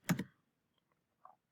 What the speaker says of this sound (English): quickly type K8